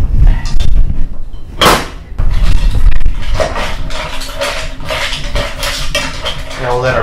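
Mussels with butter and herbs are stirred in a pot, loud clattering shells and metal scrapes with a sharp clank near the start, followed by busy rattling and scraping.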